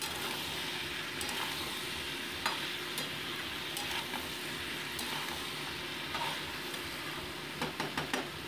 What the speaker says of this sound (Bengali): এবার আমি কেটে রাখা শিমের টুকরোগুলো অ্যাড করে দিচ্ছি, দিয়ে এটাকে মোটামুটি 2 মিনিট আমি ভেজে নিচ্ছি